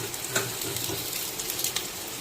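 Mango pieces frying in oil with dried chillies and five-spice for mango pickle, giving a steady close sizzle and crackle with small pops throughout.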